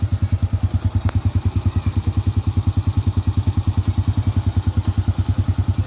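A Honda Wave 100 motorcycle engine, freshly rebored with a 50 mm bore kit, idles nearby in a smooth, regular low thumping rhythm, with a brief faint click partway through.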